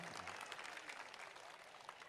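Audience applause at an honour ceremony held by a Hindi-speaking community in Surat, a steady dense wash of many hands clapping that holds throughout without breaks.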